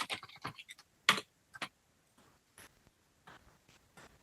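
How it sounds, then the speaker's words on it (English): Sparse keystrokes on a computer keyboard: a quick run of clicks, then isolated taps spaced out over a few seconds, close and fairly quiet with no talking. "love a good keyboard sound."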